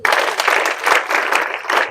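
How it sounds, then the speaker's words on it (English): An audience at an anti-drug abuse campaign rally in Bomadi, Delta claps together in a loud, dense burst of applause that rises and falls in waves for a couple of seconds. "So clap for yourself."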